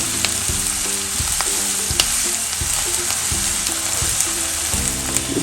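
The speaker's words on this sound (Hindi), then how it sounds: "अब हम प्याज जो रखा था 2 काट के चॉप करके वो भी हम इसी में डाल देते हैं। आँच को हमने तेज कर लिया" Chopped onions frying in oil on high flame for methi malai matar, a loud steady sizzle broken by repeated stirring scrapes and clicks of a spoon against the pan.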